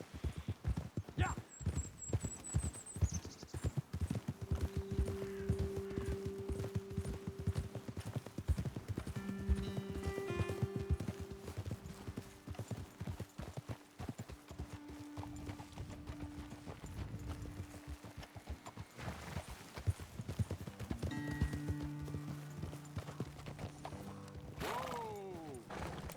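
Horses ride along in Red Dead Redemption 2, hooves clip-clopping in a steady close rhythm throughout, with occasional tack jingles, snorts and bright musical tones over the gait.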